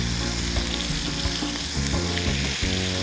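Marinated chicken frying in a pan with gravy, a loud continuous sizzle and bubbling with occasional stirring scrapes, close and steady without any voices.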